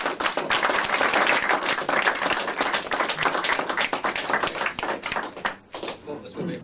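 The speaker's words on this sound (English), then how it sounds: "a big round of applause to the BBC's Harold Snow" An audience at an afternoon event gives a warm round of applause for the BBC's Harold Snow, dense clapping that tapers and thins near the end, with some voices mixed in.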